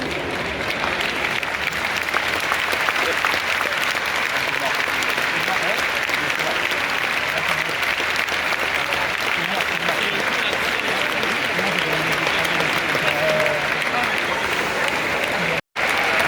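Sustained crowd applause at a Roland Garros tennis match, dense and steady clapping filling the stands for the whole stretch, with a brief break near the end.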